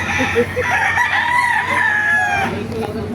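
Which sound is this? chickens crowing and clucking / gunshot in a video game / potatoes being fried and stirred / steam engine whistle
chickens crowing and clucking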